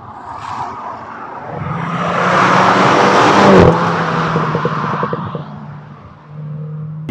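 Mini John Cooper Works F56 hatchback accelerating hard, a loud engine drone building steadily to about 80 km/h with a rising tone that settles briefly, then surges again near the end; heard from inside the car with no talking.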